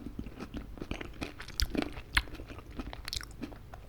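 Close, steady crunching and chewing of corn dogs and fries, with crisp bites breaking through continuous mouth sounds, no talking.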